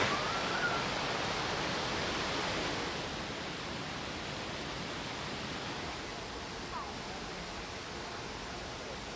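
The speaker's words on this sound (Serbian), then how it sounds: "Evo ovde se već čuje žubor vode" Steady broadband rush of water flowing at a spring in eastern Serbia, a continuous soft murmur that eases slightly after the first few seconds, with no voices.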